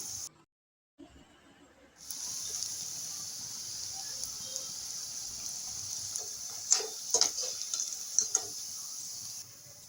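Radish snacks frying in hot oil, giving a steady close hiss and sizzle after a brief quiet start, with a few sharper crackles and spatters near the end.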